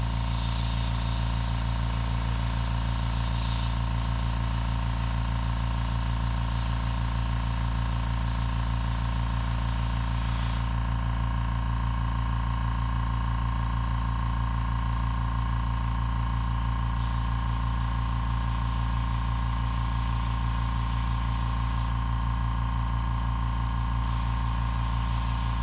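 Spray paint hisses steadily from a can held over a stencil, a loud continuous spray that changes slightly in brightness as the nozzle shifts, with no talking.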